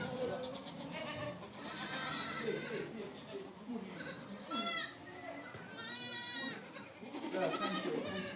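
Goats in Corsica bleat repeatedly, several overlapping calls near and farther off, mixed with people talking throughout.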